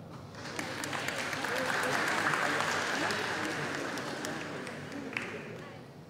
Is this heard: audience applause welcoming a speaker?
yes